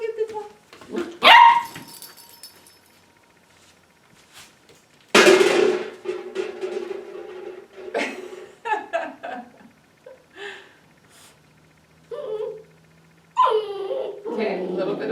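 A puppy whines and fusses during training, giving intermittent yelps and whimpers between stretches of quiet, with a person talking and coaxing over parts of it.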